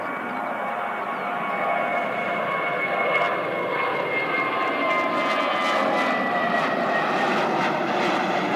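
An Air New Zealand airliner in black livery takes off from Christchurch Airport bound for Auckland, its engines a loud, steady roar that holds throughout at a moderate distance.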